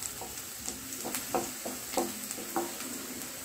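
Spices being stirred in a hot pan for a dry cluster bean curry, with soft scraping strokes and light sizzling repeating at an even rhythm, close and fairly quiet.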